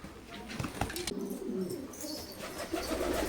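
Fancy flight pigeons cooing in a loft, soft throaty calls repeating close by over a busy background with faint rustling.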